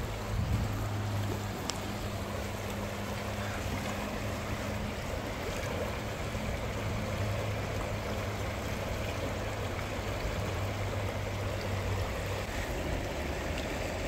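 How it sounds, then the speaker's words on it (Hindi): A cold, glacier-fed stream flows outdoors, a steady, even rushing of water that stays constant and fairly soft throughout with no voices. "पानी का साउंड, ठीक है, वो चेक करता हूँ पानी का साउंड।"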